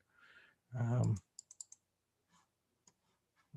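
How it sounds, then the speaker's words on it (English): Several quick, sharp computer mouse clicks in TC2000 charting software, close and clear, following a brief stretch of someone talking, with a couple more faint clicks afterward. "just right click and set an alert"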